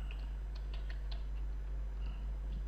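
Light, rapid keystrokes on a new computer keyboard, a sparse run of quiet clicks over a steady low hum, faint and close.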